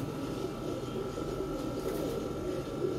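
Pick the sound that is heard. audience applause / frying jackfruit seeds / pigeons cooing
pigeons cooing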